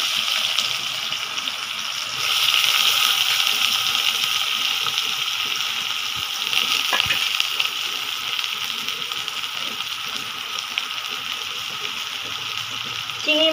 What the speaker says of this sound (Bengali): তেলটা গরম হয়ে গেছে, এখন আমি পেঁয়াজ দিয়ে দিব।